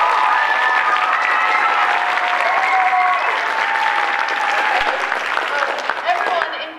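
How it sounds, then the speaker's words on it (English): Loud, sustained audience applause at a high school stage play, a dense wash of clapping with some cheering that holds steady for several seconds before tapering off. "Let's do this by applause."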